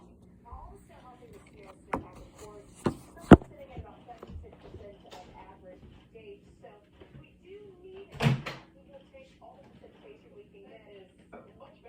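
A bowl is taken out of a microwave in a home kitchen: faint clicks and light handling noises, then one sharper clunk of the door or bowl, all fairly quiet against a soft room background.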